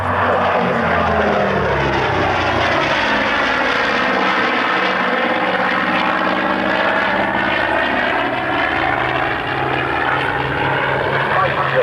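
Twin-engine propeller aircraft powered by two Pratt & Whitney R2800 radial engines, a prototype at the RAF Coningsby airshow, gives a loud continuous drone with shifting beating tones as it passes, steady throughout under faint crowd sound.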